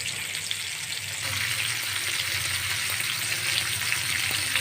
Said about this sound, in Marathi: स्लो गॅसवर तळून घ्यायचे आहे